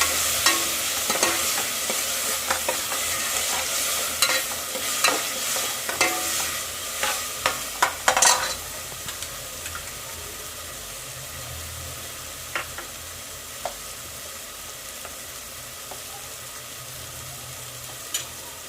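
Ginger-garlic paste and green chili paste fry in a pan for green chicken biryani, a steady close sizzle with rattling stirs and scrapes early on that thin out to a quieter, even hiss with occasional clicks.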